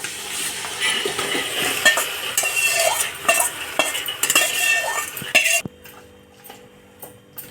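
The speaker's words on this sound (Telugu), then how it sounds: "అల్లం వెల్లుల్లి పేస్ట్ మ్యారినేట్ చేసి పెట్టుకున్న చికెన్ వేసేద్దాం" Ginger-garlic-paste marinated chicken hitting a pan for a Karnataka-style donne biryani, with clattering utensil and stirring noises and a frying hiss, then a sudden drop to quieter sparse clinks near the end.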